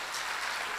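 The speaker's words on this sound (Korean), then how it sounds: "다시 한번 박수 한번 하시겠습니다." A congregation claps together during a Wednesday evening church service, a brief, dense wash of bright hand claps with no voices over it.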